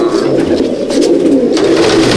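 Several pigeons in a Madrasi loft coo together at close range, a loud, steady stream of low rolling calls with small flutters and scuffles, with no one talking.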